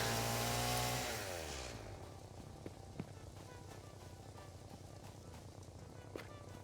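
A chainsaw in the factory-building game Satisfactory, loud revving at first, then settling into a steady buzzing drone while cutting, with occasional faint clicks and knocks over it.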